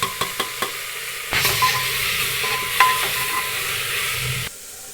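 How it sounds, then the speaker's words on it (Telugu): Tomato, coriander and curry leaves fry in a pan for a spicy lentil dish, opening with a few sharp clinks before a steady close sizzle and stir that cuts off near the end. "తర్వాత టమోటా వేసుకొని వేయించుకోవాలి"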